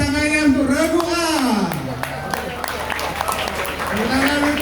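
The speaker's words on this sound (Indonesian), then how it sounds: "mana tepuk tangannya untuk regu A?" Applause for team A at a junior high school quiz competition at a school festival, a steady wash of crowd clapping running under a loud, drawn-out amplified voice.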